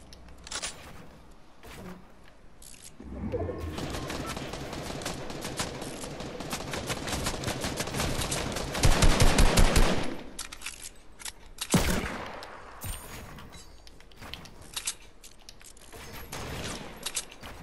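Gunfire in the video game Fortnite: dense bursts of rapid shots build into heavy sustained fire, then scattered loud cracks follow, with no talk over it.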